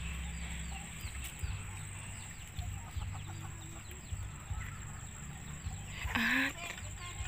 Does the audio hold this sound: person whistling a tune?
no